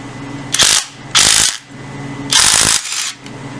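Power tool tightening the centre nut on a motorcycle clutch of a BSA 350, heard as three loud bursts of a few tenths of a second each, with quieter machine hum between them.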